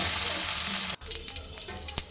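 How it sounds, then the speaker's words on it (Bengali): A loud hiss of bhola fish frying in hot oil cuts off abruptly, followed by scattered popping and crackling sizzle. "এপাশ ওপাশ ধপাস করে মাছটা ভেজে ফেলবো"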